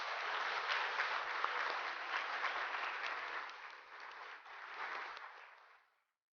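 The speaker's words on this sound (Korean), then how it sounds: "큰 박수로 맞아주시기 바랍니다." An audience at a fintech symposium opening ceremony applauds steadily to welcome the National Assembly Speaker, a dense, even wash of clapping lasting about six seconds before fading out quickly.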